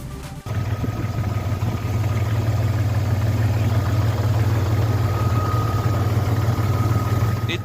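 A 1990s Jeep Cherokee 4.0L straight-six with a freshly replaced head gasket, around 300,000 miles, idles steadily and close after a brief start, a continuous low rumble with faint rattling through it.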